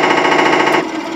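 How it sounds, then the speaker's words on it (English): Machine-gun sound effect from a Tamiya Tiger I 1/16 scale RC tank: a loud, rapid, evenly pulsing electronic rattle that runs steadily for under a second, then cuts off abruptly, leaving a softer hum. "Machine gun."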